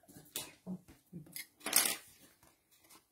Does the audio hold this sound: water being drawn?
no